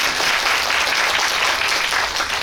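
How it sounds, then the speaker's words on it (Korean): Steady, dense applause from an audience at the Busan International Film Festival Actors' House event, a continuous wash of many hands clapping close and loud throughout with no pauses. "큰 박수 부탁드려요"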